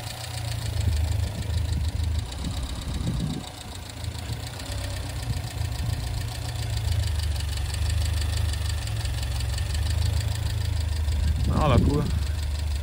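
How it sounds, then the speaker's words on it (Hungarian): A car engine with a dirty carburetor idles steadily yet unevenly, a low continuous rumble with a faint irregular knock, close by, with a couple of brief louder bursts near the end and people talking over it. "stabil az alapjárat, de olyan, mintha el lenne szennyeződve, mert mégsem egyenletes"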